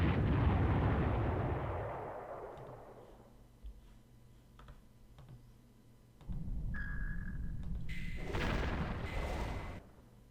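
Heavy explosions roll out as a British battleship is destroyed in the Panzer Corps strategy game: a loud booming rumble that fades, scattered small pops, then a second burst of blasts and bright tones.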